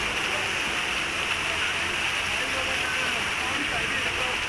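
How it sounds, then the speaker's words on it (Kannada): Floodwater rushes down a road like a river during heavy rain in Belagavi, a dense, steady roar of flowing water that stays loud and unbroken throughout. "ಒಂದು ರೀತಿ ನದಿ ಥರ ಹರಿತಾ ಇದೆ. ಕಂಪ್ಲೀಟ್ ಹೊಳೆಯಾಗಿ ಹೋಗಿದೆ ರೋಡ್ ಪೂರ್ತಿ"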